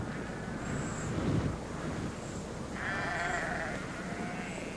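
Sheep bleat near man-made wells in dry grazing land, a few wavering calls rising over steady wind noise and a rough outdoor background.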